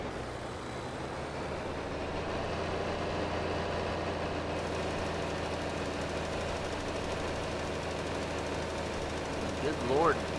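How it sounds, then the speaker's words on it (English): Tractor engine running in a farming video game, a steady low drone with knocking idle texture, continuous and fairly loud, with a person talking over it. "Am I paying this person to drive my freaking tractor back to my yard for me?"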